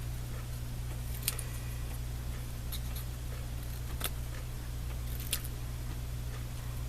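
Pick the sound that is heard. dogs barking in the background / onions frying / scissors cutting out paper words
scissors cutting out paper words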